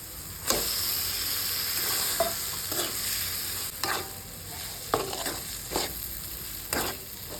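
Fish roe frying in a pan with tomato, salt and chili powder, a steady close sizzle broken by sharp scraping stirs at irregular intervals, no voices.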